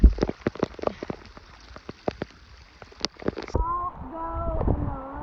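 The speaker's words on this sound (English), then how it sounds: "Don't go in the rain." Rain falls on a windy hike on Oahu, Hawaii, with scattered close drops and taps over a steady hiss. Near the end a tonal, voice-like sound rises over the rain.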